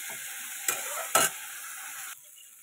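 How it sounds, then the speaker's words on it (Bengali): Vegetables fry in a pan with salt and turmeric, a steady sizzle broken by two sharp stirring scrapes before the frying hiss drops lower near the end. "নুন হলুদ দিয়ে যে এটাকে এবার ভালো মতো ভাজতে দেবো"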